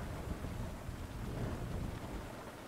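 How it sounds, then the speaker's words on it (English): Dense, steady rain drumming on a car, heard from inside, a continuous hiss and patter with a low rumble underneath, fairly quiet, in the Roblox game Blackhawk Rescue Mission 5. "The noise in the car of the rain is so accurate"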